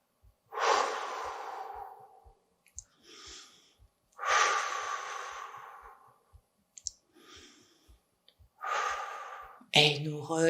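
Slow, deep breaths taken while holding a Pilates back-strengthening pose: three long, close exhales with softer inhales between, over a faint steady ticking, ending in a brief clatter.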